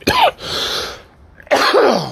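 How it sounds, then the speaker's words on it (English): Two sharp, harsh coughs from a nearby person still recovering from COVID, separated by about a second of quiet, each burst loud and raspy. "I'm still coughing from COVID."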